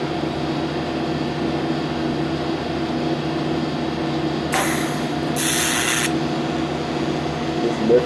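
A welder works with an Airco 300 CK power source and a rigid 18 wet torch run from a foot pedal. A steady electrical hum fills the background, broken by two short bursts of bright hiss near the middle.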